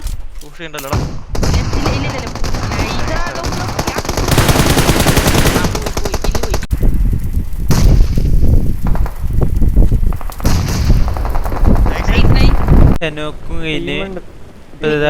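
Rapid bursts of automatic gunfire and single shots crackle through a battle royale gunfight in a mobile esports tournament match, loud and nearly continuous, with a voice talking over parts of the action.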